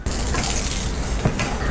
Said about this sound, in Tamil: இன்னும் 1 டேபிள் ஸ்பூன் அளவுக்கு நெய் விட்டு வறுத்துக்கலாம்.